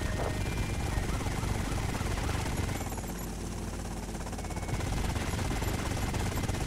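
A helicopter's dense rotor drone in the video game GTA Vice City fills the scene steadily, loud and close, with no talking over it.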